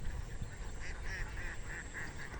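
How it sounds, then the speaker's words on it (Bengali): Ducks on open water near a village in Tetultola, Pirgachha, Rangpur, giving a steady run of short, nasal quacking calls over a constant low outdoor rumble; no one speaks. "পানিতে হাঁস"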